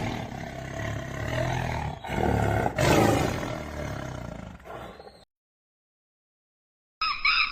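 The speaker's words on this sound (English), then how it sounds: "Tiger." A tiger roars in loud, rasping bursts for about five seconds, then falls silent before a short final growl returns.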